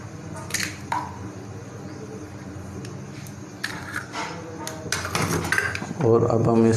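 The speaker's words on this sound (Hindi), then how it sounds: "और अब हम इसको इस तरह बीट करेंगे" Egg being beaten into crushed potatoes in a bowl, with clinks and taps of a utensil against the bowl and soft squishy mixing, a voice talking in the background.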